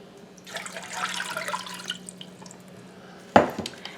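Water is poured into a cooking pan set over medium heat for hot dog chili, a soft splashing trickle lasting about a second and a half, followed later by a single sharp clatter.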